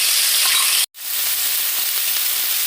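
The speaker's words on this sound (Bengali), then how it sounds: "এই ফোড়নের ভিতরে দিয়ে দেবো আমি আদা আর কাঁচা লঙ্কার পেস্ট" Ginger and green chili paste sizzling hard in hot spiced oil for a chachra, a steady loud frying hiss broken by one brief dropout near the start, with no talk.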